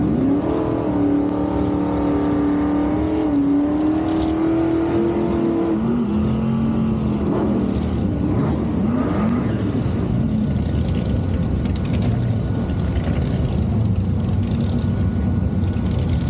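Gasser hot rods, including a supercharged 58 Corvette, roar down a drag strip with loud, sustained engine revving and shifting pitch sweeps that run continuously from start to finish.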